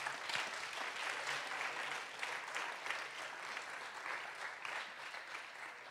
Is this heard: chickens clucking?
no